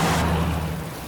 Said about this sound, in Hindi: ऊपर से इतनी बारिश है पूछो मत